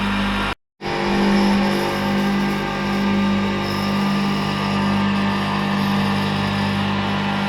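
A KR-02TA feed grinder on its first test start runs with a steady, even mechanical hum and whir, close and continuous, interrupted only by a brief cutout near the start.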